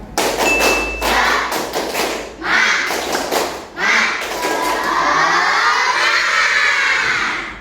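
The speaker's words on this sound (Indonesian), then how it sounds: "Coba tepuk semangat dulu. Tepuk semangat." A fifth-grade class does a rhythmic cheer clap, with loud patterned claps and thumps at first, then children shouting and cheering together close by.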